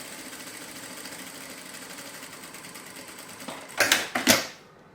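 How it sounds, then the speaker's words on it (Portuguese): A sewing machine runs at a steady, moderate hum while stitching closed the bottom seam of a fabric notebook case, ending with a few louder bursts of rapid stitching before it stops. "eu faço uma costura fechando todo o fundo"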